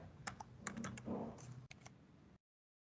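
Close, crisp keystrokes on a computer keyboard typing a command, landing in quick irregular bursts with short pauses before stopping abruptly.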